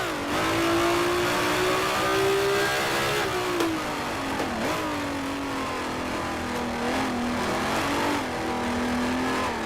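A vintage Grand Prix race car engine in Grand Prix Legends, loud and close, revving high with pitch sweeps through gear changes, dipping and climbing again, alone without talk.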